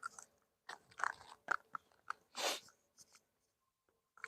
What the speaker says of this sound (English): Excuse me if you can hear me chewing, you'll just have to put up with it.